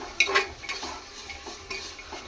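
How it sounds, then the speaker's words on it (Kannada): Vegetables and spices for a vegetable pulao being stirred in a pan with a spoon, giving a few quiet scraping strokes over a faint sizzle, close by and with no talking. "ಮಿಕ್ಸ್ ಮಾಡ್ತಾ ಇರೋಣ."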